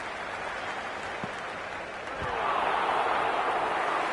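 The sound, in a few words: cricket stadium crowd applauding in Cricket 26 video game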